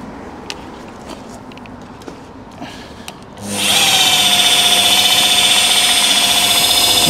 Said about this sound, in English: And then you get your polisher.